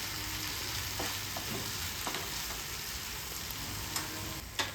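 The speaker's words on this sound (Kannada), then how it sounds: "ಅದಕ್ಕೋಸ್ಕರ ಇದನ್ನು ಚೆನ್ನಾಗಿ ಫ್ರೈ ಮಾಡಿ ಬೇಯಿಸಬೇಕಾಗುತ್ತೆ" Fruit frying in a hot pan gives a steady, loud sizzle throughout, with light stirring scrapes now and then.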